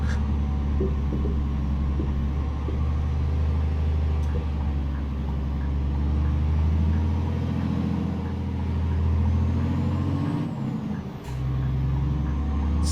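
A Scania R440 Topline truck engine in Euro Truck Simulator 2 rumbles steadily at low pitch for the whole stretch, with a brief dip and shift in tone near the end and a faint beep in the background.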